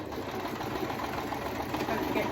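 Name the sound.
sewing machine stitching fabric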